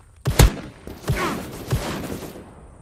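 Sharp gunshots in the first-person shooter Krunker, three or four loud cracks spaced irregularly, with a short burst of weapon noise between them.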